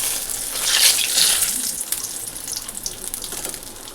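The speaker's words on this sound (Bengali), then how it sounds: "বেগুন ভাজা তুলে নিয়ে এখান থেকে তেল কমিয়ে নিব" Eggplant slices frying in oil in a home kitchen pan, a loud, bright, steady sizzle that eases off toward the end with scattered spits and pops, no talking.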